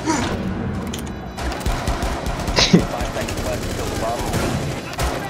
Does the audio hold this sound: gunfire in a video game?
yes